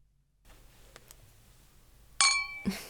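Two drinking glasses meet in a toast with one bright, ringing clink that hangs briefly, followed by a duller second knock, close and clear after a quiet pause.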